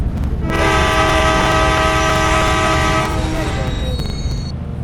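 A video game train horn blares loudly and steadily over rumbling rail noise, close by, then cuts off as the train passes.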